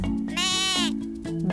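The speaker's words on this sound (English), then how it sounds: "Goat." A goat gives one loud, close, wavering bleat lasting under a second, with a short grunt-like sound before and after it.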